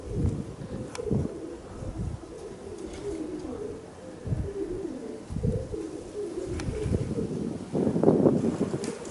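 Strong wind buffets a phone microphone outdoors while pigeons fly, giving heavy low rumbling gusts that surge and drop irregularly, with a louder burst near the end and occasional faint bird sounds mixed in.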